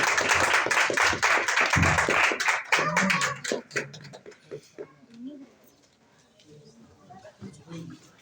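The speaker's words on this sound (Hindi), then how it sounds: "भरपूर तालियों के साथ कलाम खुदा को बढ़ाएं।" Church congregation clapping in worship, a dense burst of applause at the start that thins and fades out, with a voice speaking over it.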